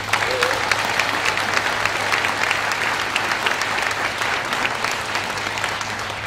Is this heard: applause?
yes